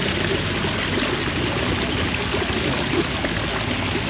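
The Cascades, a small waterfall and stream at Hot Springs, Arkansas, rushing steadily and loudly with a dense, even splashing wash that does not let up.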